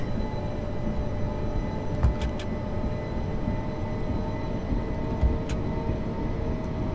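Freight slurry train running in Train Simulator 2016, a continuous low engine drone and rumble with a couple of brief clunks, steady and moderately loud.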